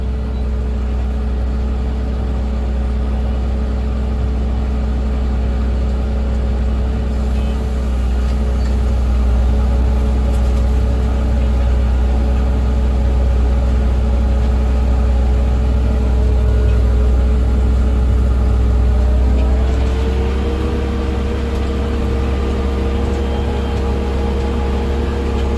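A tractor engine runs steadily during strip tillage in a field, a loud continuous low drone with a constant hum that holds throughout and shifts slightly in pitch near the end.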